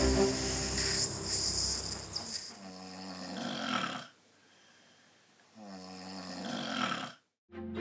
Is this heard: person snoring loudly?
yes